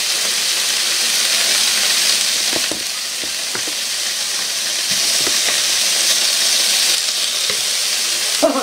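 Liver fries loudly in a pan, giving a constant dense sizzle and crackle from close by, with faint scattered pops and scrapes beneath the hiss.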